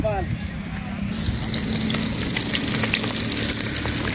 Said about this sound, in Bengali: আমাদের মাছ ভাজা দেখাচ্ছি